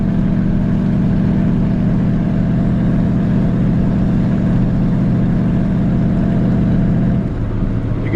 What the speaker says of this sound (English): You can hear the transmission shifts out nice and smooth.